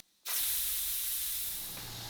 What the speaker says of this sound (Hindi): अब मैं फ्लेम बंद कर दूँगी और इसकी स्टीम निकाल लेंगे।